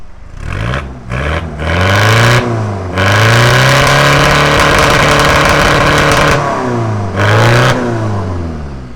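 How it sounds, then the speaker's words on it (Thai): A 6x6 buggy's engine, belching black smoke, revs hard in repeated bursts, rising and falling between high-rev roars and brief drops, loud and close with no talk over it. "เร่งเครื่องกันหน่อยดีกว่า ดู ควันดำดูตาเร่งกันนะครับ"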